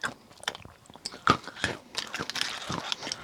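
Close crunching bites and chewing of Maltesers chocolate malt balls, with several sharp crisp cracks and quieter mastication in between, heard up close with no talking.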